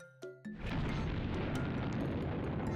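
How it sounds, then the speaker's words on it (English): A deep, booming explosion from the visual novel game Fate/Hollow Ataraxia erupts after a brief musical chime, then settles into a sustained loud rumbling roar that fills the rest of the moment. "That's the moment of the explosion."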